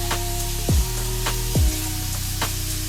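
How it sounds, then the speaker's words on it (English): Bacon frying in a pan preheated over medium-high heat, a steady close sizzle with a few louder bursts as strips are added, while a low tonal hum runs underneath. "so I'm going to throw in the bacon."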